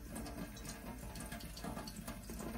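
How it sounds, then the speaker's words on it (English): Tap water running steadily into a sink while a soapy brush is rinsed clean, a soft continuous splashing flow, fairly quiet and close with no talking. "I'm getting the soap into the brush. And then I'll rinse clean."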